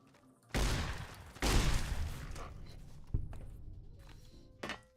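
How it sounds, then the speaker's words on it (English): Shotgun blasts in Fallout: New Vegas, two loud booming shots close together near the start followed by a sharper report and a fainter one, each with a decaying rumble, no talk. "Shotguns are so good in New Vegas."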